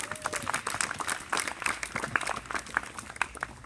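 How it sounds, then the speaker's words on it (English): Applause from an audience at a Ramadan Tent Project charity event, a dense patter of many hands clapping at moderate distance, with faint voices mixed in throughout. "a round of applause, please"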